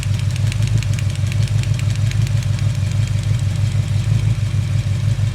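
An engine idles steadily up close, its low rumble overlaid with a fast, even ticking clatter of valve tapping from the top end.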